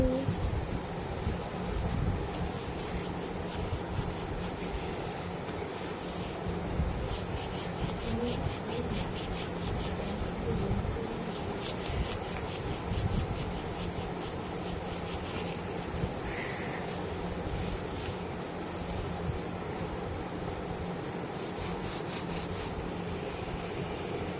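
Coloured pencils blended on paper in sky blue and light blue, soft repeated scratchy rubbing strokes in quick bursts, close and fairly quiet against a steady background hum.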